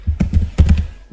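Someone types an SQL schema command on a computer keyboard: a quick, uneven run of close, crisp key taps in small clusters, with no voices.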